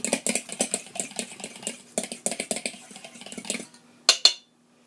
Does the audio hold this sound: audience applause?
no